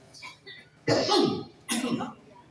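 Two harsh coughs ring out close by, one after the other, with faint murmuring beforehand.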